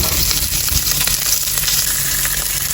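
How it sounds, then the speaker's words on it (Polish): Bacon frying and rendering its fat in a pan, a continuous loud crackling sizzle with scattered pops, close up and steady throughout. "O, na 11 i niech się boczek nam wytapi."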